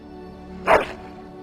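A dog in the Dragon Age Origins video game gives a single short bark, close and sharp, over a quiet steady background.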